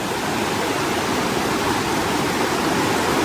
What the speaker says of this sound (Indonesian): sungainya mungkin gak terlalu deras ya